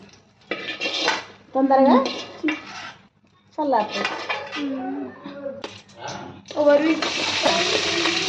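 Food from a pan, onions fried red with coconut for a tomato curry, is tipped into another dish, with bursts of clattering metal utensils and pans between spells of Telugu speech, ending in a steady scraping hiss.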